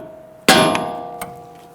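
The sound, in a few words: hammer striking a car steering knuckle to release the ball joint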